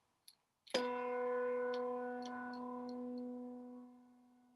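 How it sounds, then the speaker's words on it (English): A single deep bass bell strike rings out, its low tone and bright overtones sustaining for several seconds before slowly fading; a few faint ticks precede it. "you should be able to hear the overtone of the bell carrying through"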